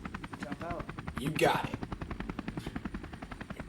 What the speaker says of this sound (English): The helicopter takes off and flies away.